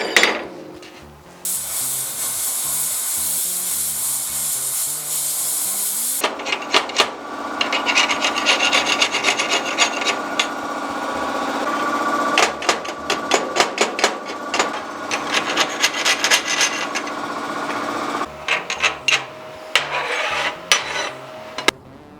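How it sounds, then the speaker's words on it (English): Steel weld edges on a liveaboard boat refit being polished with a power tool: a continuous loud abrasive grinding and rasping that runs steadily for about twenty seconds with several brief pauses and changes in pitch, with no voices. "I've just polished the edges of those welds up."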